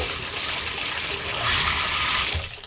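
Water pours steadily into a clogged bathtub that is filling instead of draining, a continuous loud rushing hiss from the running tap with no break.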